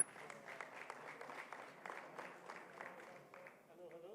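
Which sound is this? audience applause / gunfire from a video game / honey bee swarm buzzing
audience applause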